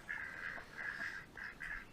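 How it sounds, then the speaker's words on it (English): Ducks quacking in a series of nasal, buzzy calls, four bursts spaced across two seconds, moderately close with faint outdoor background. "There's our other ducks."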